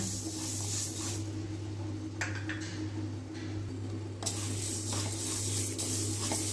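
Moong dal dry-roasting in a pan for payasam, a close, dry rustling sizzle with bursts of scraping as the lentils are stirred, steady and without speech.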